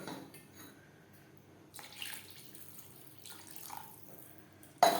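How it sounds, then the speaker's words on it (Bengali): Water is poured into a pot of rui fish curry with nearly boiled potatoes. Soft splashing pours come in two brief spells over a quiet kitchen background, and a sharp clink sounds at the end. "আলু প্রায় সেদ্ধ হয়ে এসছে এই পর্যায়ে দিয়ে দেব জল"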